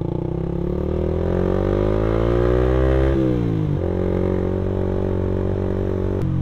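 A Suzuki Satria F150 fuel-injected motorcycle fitted with an R9 Mugello aftermarket exhaust revs up loud and close, engine pitch climbing before dropping back and settling into a deep idle, then a final sharp blip.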